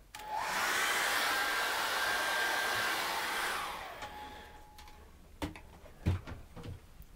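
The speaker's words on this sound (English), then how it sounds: "what I'm going to do is dry that off with a hairdryer" A hairdryer blows steadily and loudly for about four seconds while drying acrylic paint on a canvas in a cold studio, then cuts off, leaving faint taps and handling noises.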